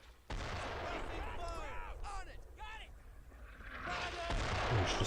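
Mortar blasts and machine gun fire in the World War II shooter Brothers in Arms: Earned in Blood, a sharp onset of heavy gunfire and rumbling explosions under a bed of battle noise, with whistling shells overhead.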